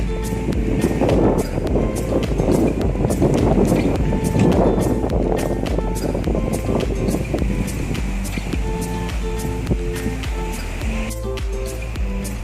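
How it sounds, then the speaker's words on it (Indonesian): Strong, steady wind buffets a tent pitched at a beachside campsite, a continuous loud roar with gusty rumbling and flapping throughout. "kita kondisinya lagi berkemah di pinggir pantai, jadi anginnya deras banget"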